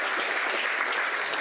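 Steady, dense audience applause for a woman introduced on a live talk show, loud and continuous throughout with no break.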